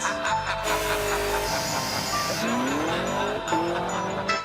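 Hennessy Camaro ZL1 Exorcist, a tuned car with over 1000 horsepower, driving past with a loud, steady engine roar and a rising gear sweep near the end, with tire noise throughout and no talking.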